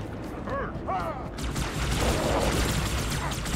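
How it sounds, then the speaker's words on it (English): Grenade explosions and rapid gunfire in Halo 2: Anniversary during a Flood fight, continuous booming and crackling bursts that build louder toward the end, with a short vocal exclamation early on. "Where is the grenade coming from?"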